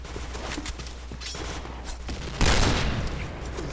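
Rapid bursts of gunfire from a player's weapon in a first-person shooter match, rattling steadily with a louder, denser volley near the end.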